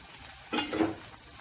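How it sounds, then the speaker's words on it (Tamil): Tamarind water heating in a pot for a ginger curry gives a short burst of bubbling, sizzling and stirring, close and fairly quiet, rising for about half a second before settling. "புளித்தண்ணி வந்து நல்லா கொதிக்க ஆரம்பிச்சிருச்சு"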